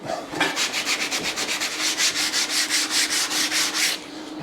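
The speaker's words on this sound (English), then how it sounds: "we're just sanding the whole window frame into shape" Sandpaper rubs rhythmically over a car window frame being reshaped, a steady run of close, rasping strokes about every quarter second that stops abruptly near the end.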